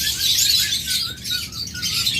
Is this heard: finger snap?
no